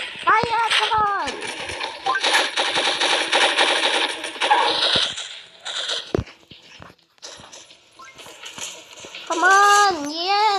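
Rapid automatic weapon fire in the shooting video game Pixel Gun 3D, loud bursts of close gunfire with brief gaps, while a young player talks excitedly over it.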